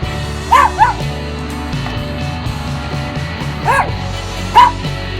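A dog at an animal shelter gives a few sharp yips and barks, short bursts spaced across several seconds, near and loud over a low background hum.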